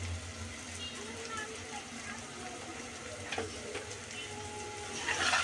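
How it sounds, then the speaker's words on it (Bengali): Ground chili, turmeric, cumin and coriander fry in a pan with a soft, steady sizzle, a few louder scraping stirs near the end, and faint talk underneath. "ভেজে নেব কিছুক্ষণ"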